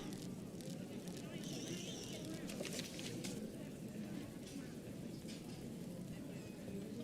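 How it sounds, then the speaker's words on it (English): Steady rain falling in the video game Morrowind, a continuous soft hiss that holds evenly throughout, with faint game sounds drifting over it. "And it's raining again."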